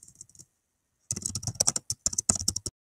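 Typing on a computer keyboard: a short burst of clicks, a pause, then a dense run of rapid close keystrokes in an uneven rhythm.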